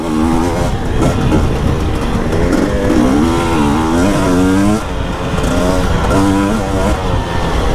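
An enduro motorcycle being ridden, its engine droning loud and close throughout with rising and falling revs, and a voice talking over it.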